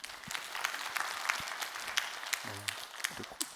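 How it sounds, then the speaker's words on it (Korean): A congregation at a Friday evening church service claps briefly, scattered hand claps over a soft crowd murmur, heard nearby and fairly faint. "박수."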